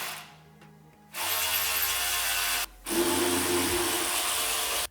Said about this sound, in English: Go ahead and get both of them snugged up using a 13mm socket.